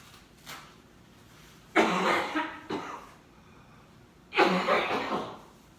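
Two harsh, close coughing bursts a couple of seconds apart, each breaking into a few rough hacks, with quiet breaths between.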